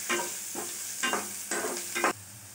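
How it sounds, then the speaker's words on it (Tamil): Onions sauté in a pan for black chana masala, with a steady close sizzle. Four rhythmic stirring sweeps rise over the hiss, roughly every half second, and no voices are heard. "ஆனியன் கொஞ்சம் வதங்கட்டும்."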